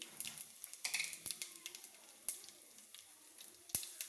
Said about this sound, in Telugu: ఆయిల్ వేడెక్కింది తాళింపు గింజలు ఎండుమిర్చి